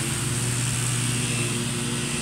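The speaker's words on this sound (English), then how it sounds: "Mowers." A lawn mower engine drones steadily somewhere nearby, a constant even hum with no variation in pitch or loudness.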